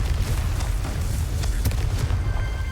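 A booming Confringo blasting spell explodes in Hogwarts Legacy over heavy low rumble, with a few sharp bursts and crackles in quick succession.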